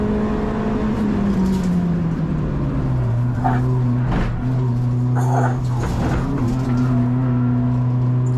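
Onboard a Citroën DS3 Cup race car at Oulton Park circuit, the engine drones loud and steady, its pitch sliding down and lifting again as revs drop low and build through the lap.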